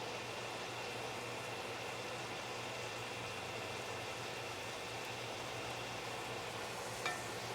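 Ground meat sizzles in a frying pan for stuffed bell peppers, a steady, even crackle and hiss with one brief clink near the end and no talking.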